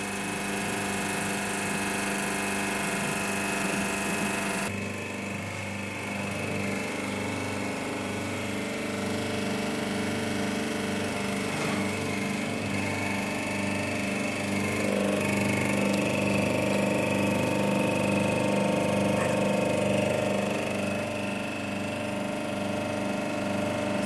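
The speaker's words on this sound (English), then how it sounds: "now I'm placing this in the compressive testing machine" A compressive testing machine applies load to a cement specimen, its motor and pump droning in a constant loud hum with a slight shift in pitch partway through and no voices.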